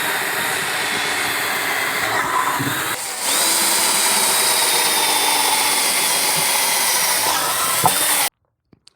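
A loud power drill grinds continuously, countersinking a bolt hole in wood, dipping briefly in the middle, then cuts off abruptly, followed by a couple of small clicks.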